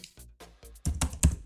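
Keys are struck on a computer keyboard while typing a Python command into a terminal: a handful of crisp, close clicks, sparse at first and then quicker and louder in a short burst.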